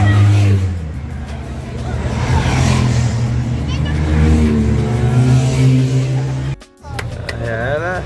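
Support motorcycles pass during a bike race in Belgium, a loud steady engine drone with revving swells under continuous crowd chatter and nearby talk, then a brief dip as the machines go by.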